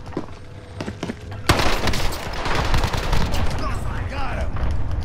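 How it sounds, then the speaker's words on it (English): In a military shooter game, an enemy cluster strike lands: after a quieter stretch, a sudden loud blast opens a dense, continuous barrage of explosions and gunfire that rumbles on, with voices mixed in. "Enemy cluster strike!"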